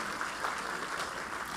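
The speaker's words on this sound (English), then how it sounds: "can we give a round of applause to Olori?" Audience applause at a youth programme event, a brief, fairly faint and even patter of clapping from a crowd with no voices over it.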